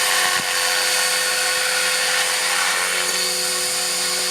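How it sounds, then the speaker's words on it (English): A radio-controlled model helicopter flies at an airfield, giving a steady, loud high-pitched rotor and motor whine that holds throughout with only slight swells. "Helicopter."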